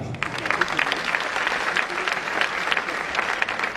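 An audience at a business seminar applauds, a steady dense wash of many hands clapping that stays even and fairly soft throughout.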